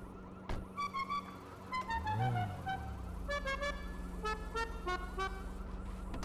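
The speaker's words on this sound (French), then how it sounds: "on va écouter le klaxon" Car horn honking on a small mini car in the GTA RP video game, several short tonal toots and beeps in a rhythmic sequence over a low steady engine hum.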